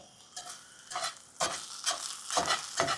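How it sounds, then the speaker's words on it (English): Potatoes sizzle and fry in a cast iron pan while being stirred with a metal utensil, with steady frying hiss broken by several loud scraping, stirring bursts up close. "I heard a bunch of sizzling over here."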